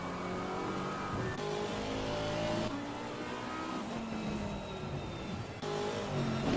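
Onboard engine of a GT4 race car in Assetto Corsa Competizione, heard as a loud continuous whine that rises through the gears and drops sharply at each upshift, with repeated climbs and falls.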